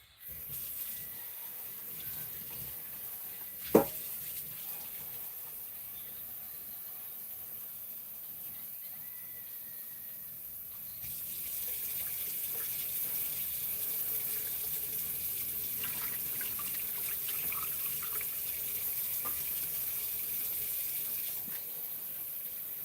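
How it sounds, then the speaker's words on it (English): Tap water runs steadily into a tray used for rinsing fire obsidian working equipment, a soft continuous flow that grows louder and brighter partway through, with one sharp knock early on. "So you get some water in this tray"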